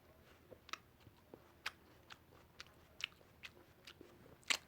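Someone bites into a honey apple and chews it up close, making crisp, moist crunches at uneven intervals against a quiet background, ending with a louder bite.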